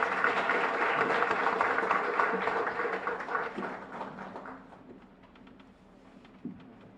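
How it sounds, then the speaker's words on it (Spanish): Congregation at a Catholic Mass in a parish church applauding for the Lord: a dense burst of many hands clapping together, strong at first and thinning out after about four seconds, with a single late clap. "Fuerte aplauso para el Señor."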